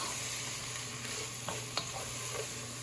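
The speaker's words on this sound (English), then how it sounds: "we're going to saute these for, well, like I said, about 5 minutes" Peppers sautéing in a pan, a steady close sizzle with a few faint stirring scrapes and no talking.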